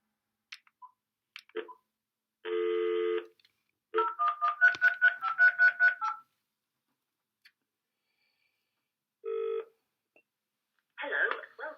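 Telephone keypad tones dial a UK number, with a block of steady tones, then a rapid run of about a dozen short beeps, then another tone burst, along with scattered soft clicks and a coughing sound.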